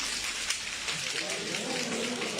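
Audience snapping or clapping two fingers together in a motivational speaking session to imitate rain, giving a dense, continuous pattering like rainfall on a surface that holds steady across the room.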